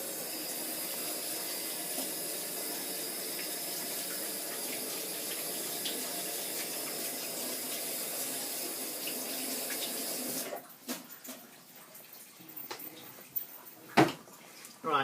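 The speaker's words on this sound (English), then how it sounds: "I'm just going to wash my hands." Water runs steadily from a kitchen tap for about ten seconds as hands are washed, then cuts off, followed by a few scattered clinks and handling sounds nearby.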